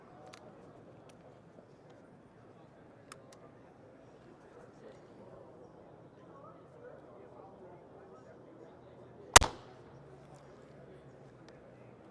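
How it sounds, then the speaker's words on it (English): A single sharp, loud crack as a TenPoint TX 440 crossbow is fired, coming after several seconds of quiet outdoor background. "Now I got the 440, so let's go ahead and shoot it."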